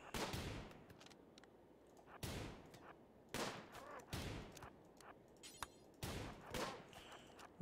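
Revolver gunshots in the video game Rimworld: five sharp, loud reports at uneven intervals a second or so apart, each with a short echoing tail over low game ambience.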